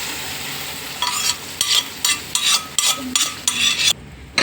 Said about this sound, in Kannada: ಇವಾಗ ನಾನು ರುಬ್ಬಿರೋ ಮಸಾಲೆ ಹಾಕ್ಕೊತೀನಿ. ಮಸಾಲೆ ಫ್ರೈ ಮಾಡ್ಕೊಳ್ಳೋಣ.